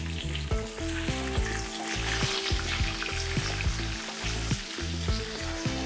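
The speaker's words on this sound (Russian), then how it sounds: "Нам нужно, чтобы мясо успело прожариться, но не пересушиться." Thin pounded pork schnitzel sizzles and crackles steadily in a hot frying pan, with the continuous frying hiss dominating and no talk over it.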